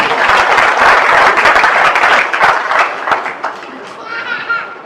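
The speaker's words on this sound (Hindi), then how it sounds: "बजाओ ताली फिर मिलेगी।" Village crowd at a political rally in Pihowa clapping energetically, a thick wash of applause that thins and tapers off over the last couple of seconds with a few scattered claps and a voice.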